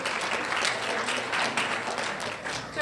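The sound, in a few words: audience applause for Diane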